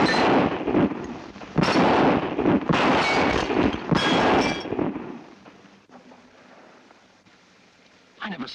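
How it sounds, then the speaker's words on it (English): Several loud, sharp gunshots ring out at irregular intervals as targets are shot and broken outdoors, each followed by a brief decay, then quieter ambience with a final shot at the end. "I never saw shooting like that before."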